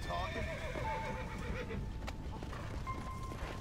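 A horse in the video game Red Dead Redemption: Undead Nightmare whinnies loudly near the start, with clip-clop hooves and game sounds behind, the whole thing quiet overall.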